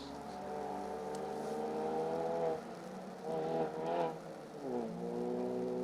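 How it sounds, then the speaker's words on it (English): A Mini rally challenge car at full throttle on a forest stage of the Grizedale Stages Rally, its engine note rising and falling through gear changes and hard cornering, loud and steady throughout. "Hold that thought, because Oliver Waggett is throwing his mini rally challenge car at the scenery with Chris Patterson alongside."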